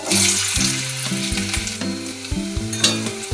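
Diced potatoes fry in oil with dried red chili and panch phoron, a loud, close, continuous sizzle and crackle over a melodic background music bed.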